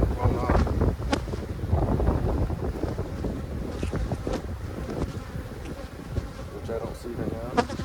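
Gusty wind buffets the microphone outdoors during a beehive inspection, a loud rumbling roar that rises and falls with a faint buzz of bees beneath it.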